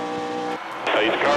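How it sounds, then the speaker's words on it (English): NASCAR race car engines roar loudly, a raw mechanical drone that swells into a fuller, brighter blast partway through, with a voice talking over it. "Gentlemen, start your engines."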